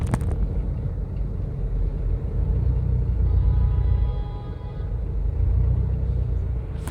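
Road traffic on the eight-lane Commonwealth Avenue, a continuous low rumble of slow-moving cars and engines that swells and eases, with no voices over it.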